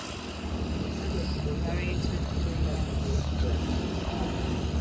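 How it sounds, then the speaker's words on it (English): A small propeller plane lands at Santa Monica airport, heard as a steady engine drone that holds throughout under a broad wash of outdoor noise. It sounds moderately distant. "you got the aircraft that is landing"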